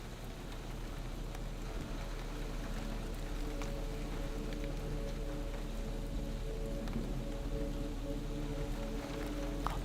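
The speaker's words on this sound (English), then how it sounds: "The rain sounds wonderful to me." Steady rain falls on a surface throughout, a dense, even patter with soft low rumble beneath and no talking, close and constant at moderate loudness.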